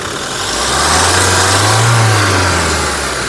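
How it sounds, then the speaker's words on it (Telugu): A Toyota Innova Crysta 2.8 diesel engine, 2016/17 model, hums steadily, swelling briefly into a rev before settling back to a smooth idle; no voices. "ఇంజన్ యొక్క నాయిస్ చాలా సైలెంట్గా అయితే ఉంది"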